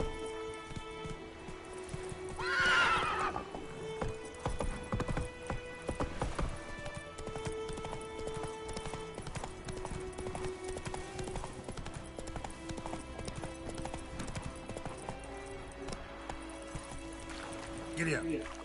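Roach the horse gallops in a video game, hooves drumming in a steady rhythm beneath music, with a short whinny near the start and scattered game effects; a voice speaks briefly.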